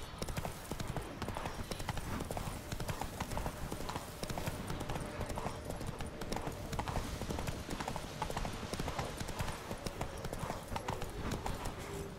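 Steady clip-clop of horse hooves at a brisk trot in the video game Witcher 3: Blood and Wine, continuous and close, over a dense background of ambient game noise.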